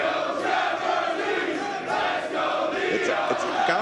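A packed Reseda pro wrestling audience chants and roars continuously, a loud, dense wall of massed voices with rhythmic shouting rising over the crowd noise.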